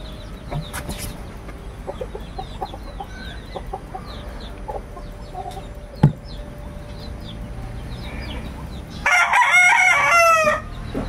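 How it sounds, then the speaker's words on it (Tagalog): Roosters crow near the end, one loud, close, harmonic call standing out over quieter rural background sounds, scattered chirps and a single sharp knock. "Yung mga manok na tandang ba?"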